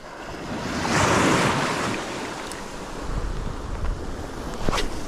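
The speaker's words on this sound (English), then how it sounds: "something special about going out when it's pouring down with rain like this" Heavy rain pours while bass fishing outdoors. A broad, steady roar of downpour and gusty wind hisses loudly and continuously, with a few sharper taps and knocks near the end and no voices.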